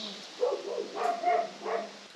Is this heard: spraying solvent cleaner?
no